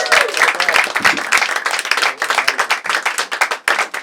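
Loud audience applause fills a comedy show venue, a dense steady wash of clapping hands with scattered cheers, continuous for the whole stretch.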